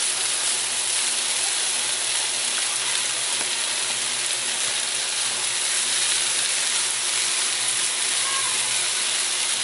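Shrimp stir-fried for shrimp fried rice, a loud, steady, dense sizzle that runs unbroken throughout, close up with no talking.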